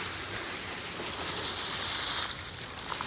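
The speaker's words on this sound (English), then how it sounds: "I'm just sprinkling on the leaves everywhere." Dry leaves shaken from a container onto garden soil around apple trees, a continuous soft rustling patter like light rain, close and steady throughout.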